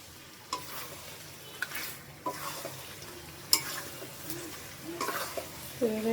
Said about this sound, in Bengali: আমি চুলার আঁচটা বাড়িয়ে মাংসটাকে ভালো করে নেড়ে চেড়ে নিব